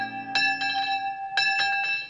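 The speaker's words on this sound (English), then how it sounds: "The dinner bell." A dinner bell at a lakeside camp in the horror film Friday the 13th Part II rings clearly in two separate bursts of bright, sustained metallic tones, close and alone without talk.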